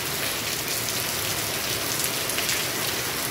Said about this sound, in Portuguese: Chuva forte aí na cidade hoje.